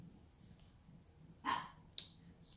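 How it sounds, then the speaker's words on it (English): A dog indoors gives two sharp, short barks a moment apart, standing out clearly against a quiet room background. "sorry, my dog is barking."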